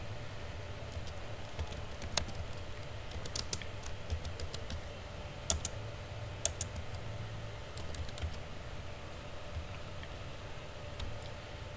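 Soft, irregular clicking of keys on a computer keyboard as a password is entered, quiet and close with scattered taps over faint background hiss and no talking.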